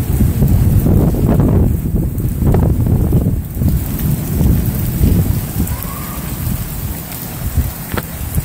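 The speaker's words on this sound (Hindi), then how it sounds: "बारिश हो रही है बड़ी शदीद किस्म की" Heavy June monsoon rain pours down in a loud, continuous roar, with low rumbling surges through the downpour.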